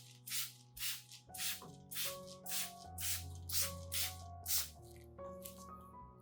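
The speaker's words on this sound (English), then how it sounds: "You just need to spray the mixture once a month to maintain the plant's health." Repeated short spray bursts of a plant-care mixture misted onto an orchid, about a dozen evenly spaced hissing puffs, close and clear over soft background music.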